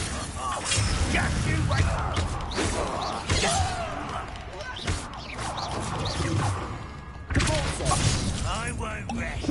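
Confringo blasting spells from the Hogwarts Legacy video game burst out amid game combat, with shattering crashes and thuds recurring throughout under a character's voice.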